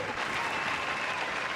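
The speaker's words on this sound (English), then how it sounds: "Y'all clap it up for him one time." Steady applause from an audience welcoming Big Mike Pugh at a live shed-session gathering, continuous clapping filling the moment without a break.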